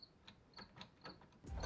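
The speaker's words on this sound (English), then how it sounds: "Double ratchet action!" A ratchet wrench clicks in a quick, irregular series of close metallic ticks while installing a Walker Evans front shock on a Honda Pioneer 500, ending in a brief louder rustle.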